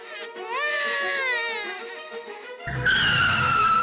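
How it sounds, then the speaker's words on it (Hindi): A baby abandoned in a garbage bin cries in a Motu Patlu cartoon, a loud wavering wail lasting about two and a half seconds, then broken off by a harsh noisy burst. "ये किसके रोने की आवाज है बेटा?"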